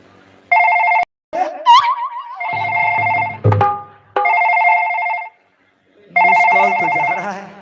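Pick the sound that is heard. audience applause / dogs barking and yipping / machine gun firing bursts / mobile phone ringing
mobile phone ringing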